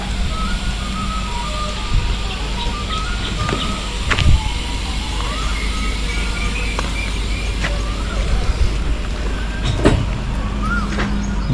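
Konkan Railway train rolling along the coast between Murdeshwar and Mangaluru, a steady loud rumble with rhythmic clanks and squeals heard from onboard; faint voices in the background.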